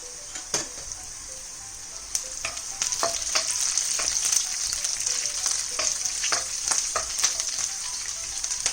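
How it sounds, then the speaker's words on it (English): Oil sizzles steadily in a hot pan, a bright crackling hiss with scattered pops and a few utensil scrapes, close up and without talk. "As this sizzles"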